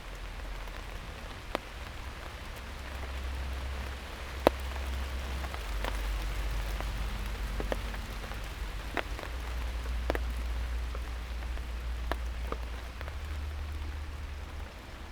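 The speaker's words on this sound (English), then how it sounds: "Just thought you might like some rain dripping on a tarp footage." Rain drips onto a tarp in a steady soft patter, broken by sharp, distinct drop hits at irregular intervals over a low background hum, with no talking.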